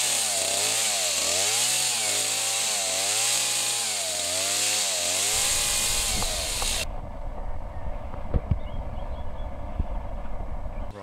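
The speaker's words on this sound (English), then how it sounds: "Then we can use a chainsaw to trim the end of this to turn it into a more conventional looking brick." A chainsaw runs loud and close, its engine note rising and falling as it trims the end of a straw bale into a neat brick shape, then dropping to a rougher, lower idle with scattered knocks.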